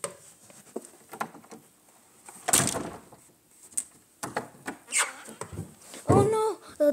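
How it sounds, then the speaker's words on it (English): A door in a sinking-ship video game slides shut amid scattered knocks and clatter, with a sharper bang near the middle and voices breaking in toward the end. "The door closed."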